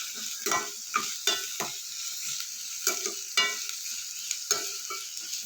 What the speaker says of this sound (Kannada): ಇವಾಗ ಇದಕ್ಕೆ ಈರುಳ್ಳಿ ಹಾಕ್ತಾಯಿದ್ದೀನಿ. ನೋಡಿ ಫ್ರೆಂಡ್ಸ್, ಇದು ಇವಾಗ ನೀಟಾಗಿ ಬಾಡಿಸ್ಕೊಳ್ಳೋಣ